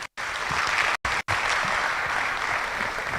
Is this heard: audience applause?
yes